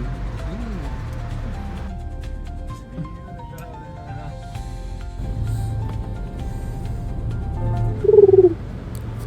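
Exotic birds at Bangkok Safari World coo and call at close range, with scattered chirps and a louder, sharper call near the end over outdoor background noise.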